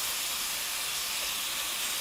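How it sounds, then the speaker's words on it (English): Honey garlic green beans on a low simmer in a pan, a steady close hiss and sizzle that holds even and unbroken throughout, with no voices. "we're going to let these go on a low simmer just like this for about 3 minutes"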